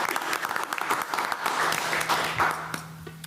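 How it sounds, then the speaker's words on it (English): Applause from attendees at a school board meeting, a steady patter of many hands clapping for several seconds at moderate volume, with a faint low hum running underneath. "So please, a round of applause for Mr. Steinlage tonight."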